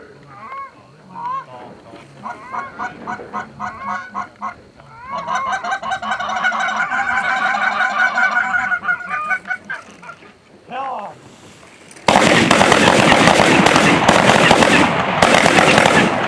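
Geese honk repeatedly during an early-season goose hunt in New York, with rising and falling calls for several seconds, then a sudden, loud, sustained burst of noise takes over at the end.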